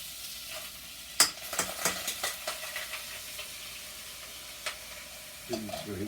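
Drained rice frying in a pan while being stirred, with irregular scraping clatters and a steady sizzle close by, some sharp utensil knocks near the start.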